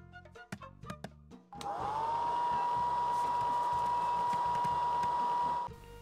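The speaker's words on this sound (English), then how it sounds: "Hairdryer." A hair dryer in the video game Stupid Invaders, preceded by a few clicks and knocks, then switching on and spinning up into a steady, loud whine that runs for several seconds before cutting off.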